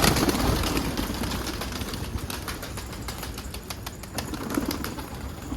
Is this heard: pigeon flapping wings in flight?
yes